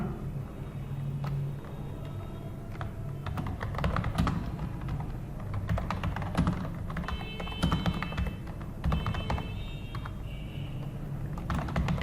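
Computer keyboard typing while entering data into a Microsoft Excel spreadsheet, a steady run of close, light key clicks and taps that continues for the whole stretch, with no talking.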